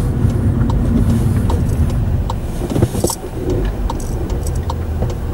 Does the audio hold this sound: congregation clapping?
no